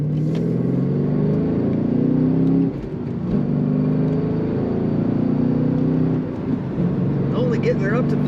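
A 2013 Chevrolet Camaro 2SS engine revs toward 3,500 to 4,000 RPM, a loud steady droning rumble that dips briefly and climbs again, with a person talking over it.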